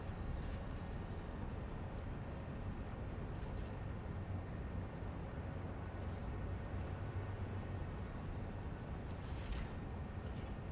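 A train in the factory-building game Satisfactory rumbles steadily and loudly throughout, a dense low mechanical drone with faint hissing swells layered on top, no voices present.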